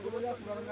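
Oil is sprayed onto a freshly washed tractor in one brief, breathy hiss that stays fairly steady for under a second.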